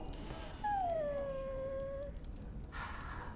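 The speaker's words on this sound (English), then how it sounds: "Bloody dog." A dog in the Dragon Age Origins video game lets out a single drawn-out, high whining whimper over steady background ambience, followed by a brief soft rustle.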